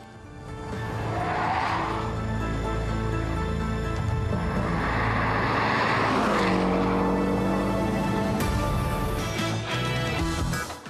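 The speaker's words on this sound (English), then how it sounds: "Even changing lanes at 110 kilometers per hour and oversteering slightly is no problem for the" A Porsche Boxster S makes a fast lane change at about 110 km/h. Its engine roars loudly and steadily while the tires squeal and skid through the maneuver.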